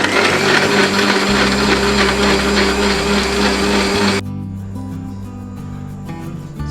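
A blender whirs loudly and steadily as mint soda and ice are blended, the motor cutting off abruptly partway through, leaving a quieter background hum.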